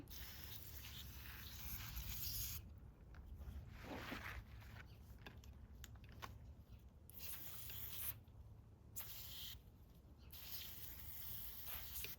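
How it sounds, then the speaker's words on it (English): Several hissing bursts of a spray bottle aimed at a plant's root area against mealybugs, short and close, separated by brief pauses and faint handling noises. "I'm also going to spray it in the root area."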